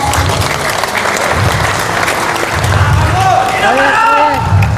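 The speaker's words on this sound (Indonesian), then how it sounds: "Tepuk tangan dong." Applause from an audience at a flag handover ceremony: steady clapping throughout, joined near the end by voices and cheering over it.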